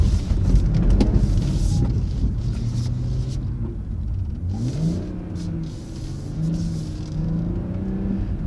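BMW M140i rear-wheel-drive hot hatch engine droning and rising in pitch through a lane change on a slippery surface, a loud, continuous rumble with throttle swells, close and steady with no voices.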